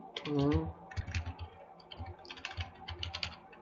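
Close clicking keystrokes on a computer keyboard in irregular bursts of typing, mixed with a voice speaking over them.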